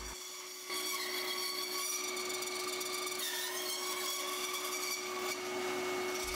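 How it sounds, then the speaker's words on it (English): A bandsaw with a miter gauge cuts short wooden logs to length, running as a steady loud whine with a constant motor hum and blade noise throughout after a brief quieter start. "I'm going to use the miter gauge on the bandsaw to get them cut to length."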